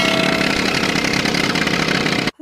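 A loud, steady boat engine chugs and rumbles continuously up close, cutting off abruptly at the very end.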